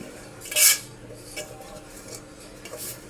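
A spoon scrapes food out of a bowl while layering chicken biryani: one loud clank, then several lighter scraping strokes against the dish, close up.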